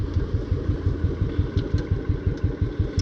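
Motorcycle with a barrel exhaust idling nearby, its engine thumping in a steady, even pulse, loud and close, with no voices over it.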